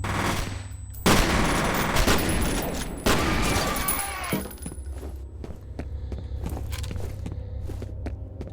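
Burst rifle fire in a video game, loud bursts of rapid shots up front, then quieter footsteps and light clicks.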